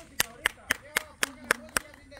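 Hands clapping in a quick, even rhythm, seven sharp claps about a quarter second apart, close and fairly loud, with a voice faintly in the background.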